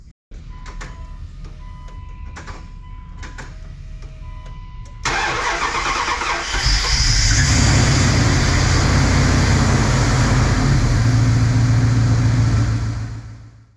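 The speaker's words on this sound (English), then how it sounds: "Let's see if it starts." A Ram 1500 pickup with leak repairs underway, oil not yet changed, sits quiet with faint ticking before its engine cranks and catches about five seconds in, then revs up and runs loud and steady until the end.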